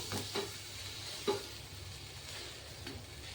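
A bhajani thalipeeth flatbread roasts in a pan and is flipped, heard as a faint, steady sizzle with a few soft clunks close by.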